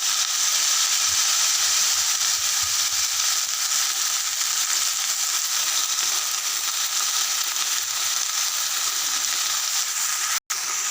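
Fenugreek leaves frying in a pan, a steady bright sizzle that holds evenly throughout with no talking.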